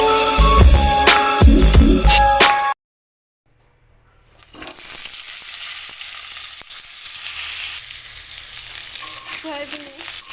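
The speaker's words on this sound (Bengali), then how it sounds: "আলু আর সয়াবিন একসাথেই ভেজে নেব" Potatoes and soybean chunks fry together in a pan with a loud, continuous sizzle and crackle; music plays before a short silence, then the sizzling starts.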